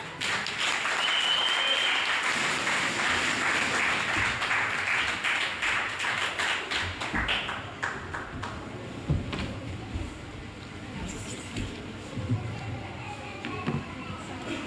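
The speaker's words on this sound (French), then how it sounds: "Sujet d'applaudissement" Sustained applause from a crowd, loud at first and gradually thinning out into scattered claps with some murmuring.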